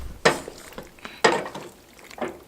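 Creamy Alfredo pasta sauce stirred in a pan, with three distinct scraping strokes of a utensil against the pan, spaced about a second apart, up close and fairly quiet.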